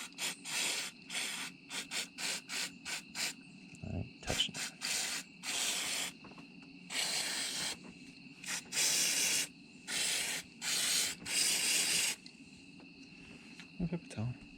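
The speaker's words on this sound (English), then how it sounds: "So, some QD electronic cleaner. Let's spray down some of this." Short bursts of aerosol electronic contact cleaner sprayed onto a grimy part from a GMC Sierra pickup, a rapid series of hissing blasts of varying length, with brief talk in between.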